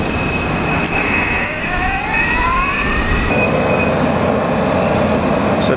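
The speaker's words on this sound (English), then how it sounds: "So that's the sound when you start off from the Aileron V1." An Arc Aileron V1 electric board with Fusion Drive starts moving, giving a loud, steady whine that rises in pitch over rushing road and wind noise, with no one talking.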